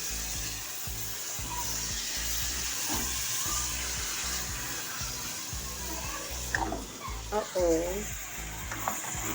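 Mixed vegetables such as potato, peas and carrot go into a frying ginger, garlic, tomato and onion masala in a home kitchen. It gives a continuous sizzle over a low, rhythmic rumble, and a voice is briefly heard near the end.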